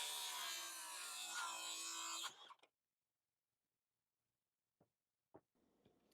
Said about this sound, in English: Then you can simply cut this using a circular saw.